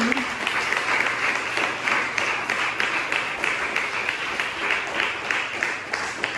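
A church congregation applauds for the Lord, dense rapid clapping from many hands that holds steady and fairly loud throughout, with no speech over it.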